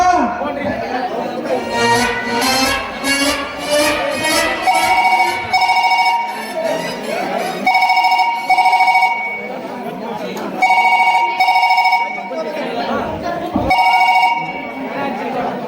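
A telephone rings in repeated electronic bursts during a Kannada village stage drama, loud and near, while several people chatter and talk over it.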